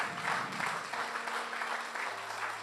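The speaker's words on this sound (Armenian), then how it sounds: "Եկեք ծափահարենք Տիրոջը" A church congregation applauds, steady rhythmic clapping that fills the whole moment at moderate distance, with a low sustained tone underneath toward the end.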